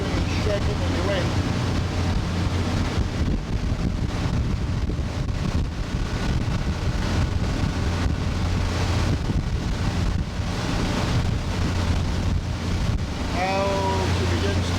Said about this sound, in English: Everything is shaking in the wind.